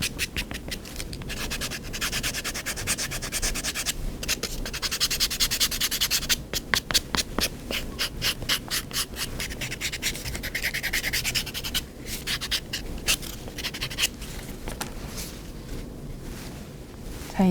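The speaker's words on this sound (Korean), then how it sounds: "단면은 조금 동일하게 사포로 갈거나 칼로 다듬어서" Steady back-and-forth rasping of sandpaper against the cut edge of a leather pin cushion, continuous close scratching strokes with a quicker rhythm in the middle and no talking.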